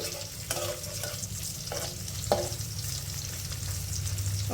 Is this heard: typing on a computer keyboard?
no